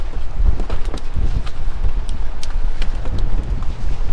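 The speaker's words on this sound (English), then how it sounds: "With this wind, it's insane." Strong coastal wind while sheepshead fishing in Clearwater, Florida, buffeting the microphone with a loud, continuous rumbling roar and irregular gusty thumps throughout.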